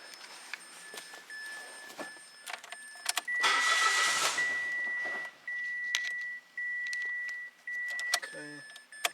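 A 2017 Mitsubishi Mirage with a 1.2L engine and a P0016 fault is cranked, with a short burst of starter whirring followed by an uneven, intermittent running note and a few electronic beeps, close and moderately loud.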